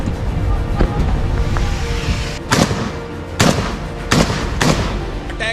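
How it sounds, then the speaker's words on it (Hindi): Gunfire in a Gaza war zone cracks out in several sharp, loud reports spaced irregularly over a few seconds, two coming close together, against a steady background rumble. "ओके, फायरिंग हो गई है।"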